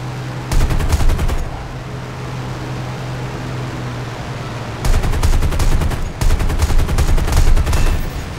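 Machine guns of a P-63A fighter aircraft in War Thunder realistic battles fire in three loud bursts, one short and two longer, over a steady engine and wind drone.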